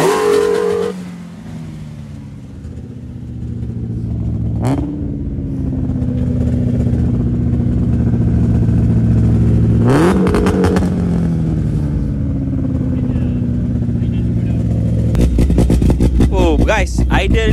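Car engine with an aftermarket cam idling loudly, then blipped in a few sharp revs that rise and fall back, with a closing burst of rapid revving, heard close with people talking nearby.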